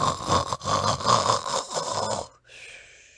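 A human voice imitates the badger Tommy Brock snoring industriously, with rather a snort: a loud, close, rattling snore of a few seconds that cuts off abruptly into near silence.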